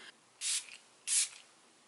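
Two short, close hissing bursts from a spray bottle misting setting spray onto a makeup sponge, each lasting about a quarter second with a brief pause between.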